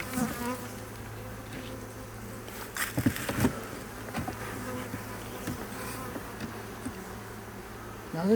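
A weak honeybee colony hums steadily in a hive in a bee yard, a low, close buzz with faint scattered taps and handling noises over it.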